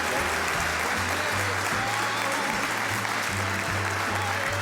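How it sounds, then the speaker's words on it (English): A crowd applauds for Sheriff Joe Arpaio, a steady dense clapping that holds at an even level for the whole stretch, with a faint low hum underneath. "How about a big round of applause for Mr. Joe Arpaio?"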